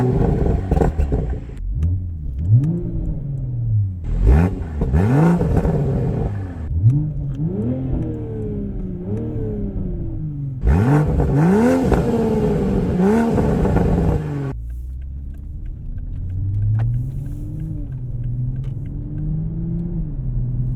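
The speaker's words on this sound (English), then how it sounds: "So let's go ahead and take it on the road and see how she does." A Mk5 Toyota Supra driven on the road, its engine revving up repeatedly through rising gear pulls, loud and close from inside, then settling into a lower steady hum.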